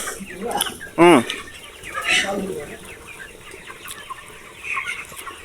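A 40-day-old chicken clucks sharply nearby, followed by a few softer clucks and squawks, with faint voices in the background.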